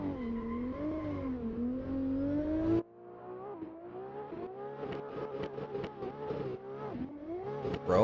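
A drift car's engine revs and climbs through gears during a motorsport qualifying run at Mondello, loud and varying, with sharp rises and a brief drop as the car is thrown into the corner.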